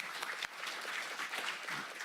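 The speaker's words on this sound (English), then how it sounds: "Give a round of applause." Audience applause fills a county board of supervisors meeting: a steady, dense wash of many hands clapping at once, continuous and fairly loud throughout the short stretch.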